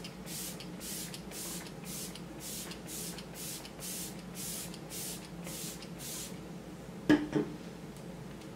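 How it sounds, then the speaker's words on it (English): Setting spray mists onto a face, about a dozen short evenly spaced hissing pumps in a row, followed by a few soft breathy sounds near the end. "It's just like a mist, like a true cloudy mist."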